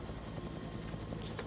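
Helicopter hovering over a women's road race at the 2010 Commonwealth Games, heard as a steady, fairly faint rotor and engine rumble with no talk.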